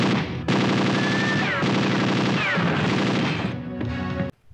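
Sustained automatic gunfire from a 1994 Filipino action film scene in which bandits are shot climbing a staircase at ruins, loud rapid bursts running almost continuously with crashing impacts, ending abruptly.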